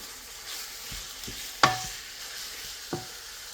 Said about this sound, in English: So I'll just stir this, then I'll allow it to saute for some time.